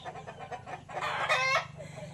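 Chickens cluck close by in a quick run of short repeated calls, then one louder, drawn-out squawking cry rises above the rest before the clucking settles again.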